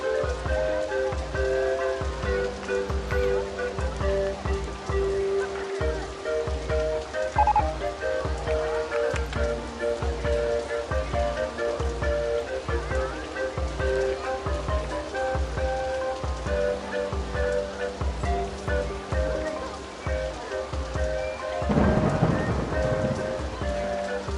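Steady rain pours down in the OpenRCT2 theme park game, a dense continuous hiss over a low repeating game music loop, with a brief louder burst near the end.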